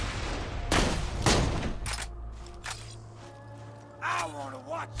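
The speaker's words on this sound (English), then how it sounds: "Yeah, let's use a sniper rifle." Sniper rifle shots in Borderlands 2, two sharp loud cracks in quick succession followed by a lighter report, with talk and game effects sounding around them.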